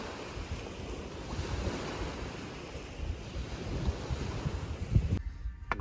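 Waves washing against the shore of the Volga, a steady broadband surge with gusting wind noise throughout, cutting off abruptly near the end.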